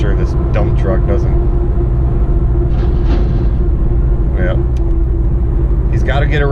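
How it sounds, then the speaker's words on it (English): A dump truck rumbles past a car on the road, a loud, steady low roar with broad road noise that holds throughout. "I'm making sure this dump truck doesn't..."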